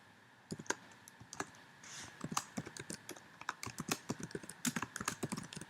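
A printf command is typed on a computer keyboard as a run of close, crisp key clicks in uneven bursts with short pauses, with no talk.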